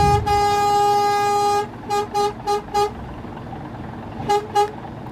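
A long, loud horn blast from a Scania K410 bus in Bus Simulator Indonesia, followed by four short toots and then two more short toots, each a clear multi-tone honk with no talking.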